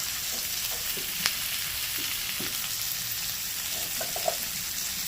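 Chicken pieces fry and get stirred in a pan for a restaurant-style chicken manchurian, giving a steady close sizzle with a few sharp spatula scrapes and clicks; no one speaks.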